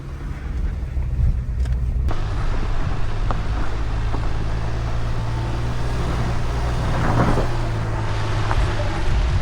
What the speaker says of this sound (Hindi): अभी आ रही है हमारी जिमनी, सही दबा के जाने दो दबा के